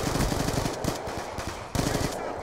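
Rapid automatic gunfire in a video game, dense close bursts of shots fired at the player, a steady rattling stream that briefly thins and then resumes at full loudness.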